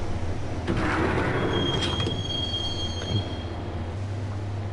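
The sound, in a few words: subway train riding in video game Max Payne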